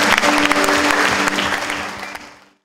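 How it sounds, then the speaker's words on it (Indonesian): Applause from the congregation at a church prayer fellowship meeting, a dense burst of clapping that is loud at first, then gradually fades away and ends in near silence. "Kasih tepuk tangan keluarga sedikit"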